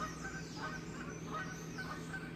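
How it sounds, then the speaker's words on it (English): Geese honk from the rooftops in a quiet outdoor setting, with repeated nasal calls that sound fairly distant over a low steady background hum. "It's nice and quiet except for the geese."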